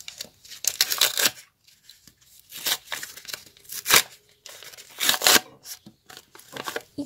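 A paper surprise packet is torn open by hand in close, bursty rips and crinkles, several separate tearing strokes with short quiet gaps between them.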